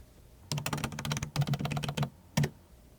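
Computer keyboard typing while entering an employee ID number into payroll software, a quick burst of close, crisp key clicks, a short pause, then a few more taps.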